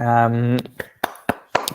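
A single person claps their hands at the close of a startup talk before Q&A: a short burst of voice, then four or five sharp, separate claps at an uneven, unhurried pace.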